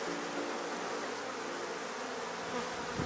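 Honeybees swarm around an opened beehive during an inspection, making a dense, steady, close buzz that holds at an even loudness throughout without a break.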